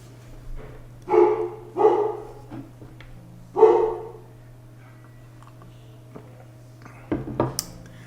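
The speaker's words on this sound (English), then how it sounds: "Sorry about the dogs barking." Dogs bark a few times in separate bursts at moderate distance, with a steady low hum underneath and quiet pauses between the barks.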